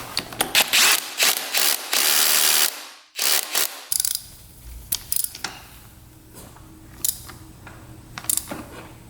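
A ratchet clicks in quick bursts of rapid pawl ticks while tightening a part on a 2-stroke dirt bike, then slows to sparser clicks and soft mechanical rubbing, close up with no talk.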